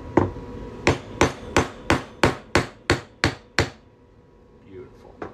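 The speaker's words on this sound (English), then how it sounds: "I'm just going to hammer that right on through." Nine sharp metallic hammer blows drive a punch through a 90% silver quarter at a steady rhythm, loud and close, followed by a quiet pause.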